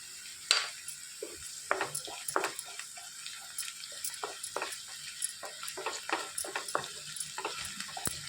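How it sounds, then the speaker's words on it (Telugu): Ginger garlic paste fries and is stirred in a pan for drumstick masala curry, giving a faint, close sizzle with repeated light scraping and clinking strokes, and no voices. "పచ్చివాసన పోయేంత వరకు వేయించేసుకోవాలి."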